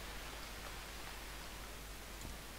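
Steady rain in the survival game UnReal World hisses evenly and continuously, a dense close wash of drops with no talk over it.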